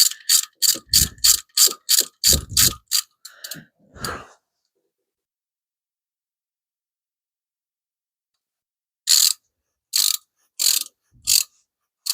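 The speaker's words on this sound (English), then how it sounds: "I wish I had a ratchet that would ratchet back." A ratchet wrench clicks in a quick steady burst of about a dozen sharp clicks, then falls silent before a shorter run of four or five clicks resumes, close and loud with no talk.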